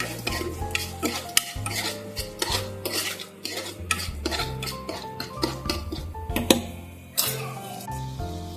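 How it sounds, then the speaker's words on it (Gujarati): A spoon stirs and scrapes sev tamatar sabzi masala of tomatoes, Kashmiri red chilli powder, salt and sugar in a pan, with repeated sharp metallic clinks and taps over a light sizzle, close and irregular, with no speech. "હવે આને એકદમ સરસ મિક્સ કરી લેશું."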